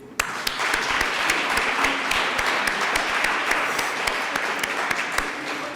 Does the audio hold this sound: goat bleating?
no